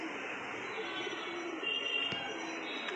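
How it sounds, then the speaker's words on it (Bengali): Pigeons are released from a cage, with soft cooing and bird calls close by over a steady broadband background hiss and a brief flutter-like burst near the end. "এই পায়রা উঠছে দেখুন"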